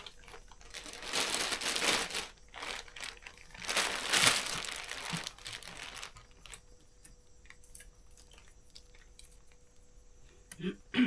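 A thin plastic tomato-paste bag crinkles and rustles in bursts as green bananas are placed inside during a home harvest, loudest in the first six seconds, then fading to faint handling noises.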